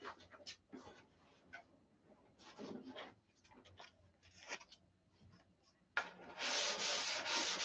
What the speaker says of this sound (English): So now, basically what this is all about detail sanding.